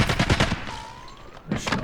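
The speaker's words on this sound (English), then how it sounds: "I shot him." Rapid bursts of gunfire in the video game Delta Force: Hawk Ops crack in a quick string, then stop before another burst at the end, loud and close.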